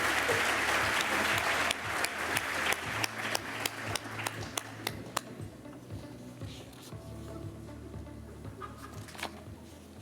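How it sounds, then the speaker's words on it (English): An awards-ceremony crowd applauds high school finalists and a Coach of the Year, loud dense clapping for the first few seconds that thins into scattered individual claps and fades toward the end. "a round of applause for these finalists and our Coach of the Year"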